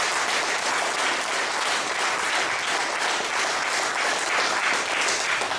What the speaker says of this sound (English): So a big round of applause to her.